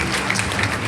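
Steady applause from an audience gathered for a school class event, a continuous wash of many hands clapping at a fairly even level throughout, with no voices standing out.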